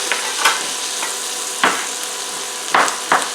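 Peppers sautéing in a hot pan, a continuous sizzle broken by several sharp scrapes and stirs of a utensil, close and without talk.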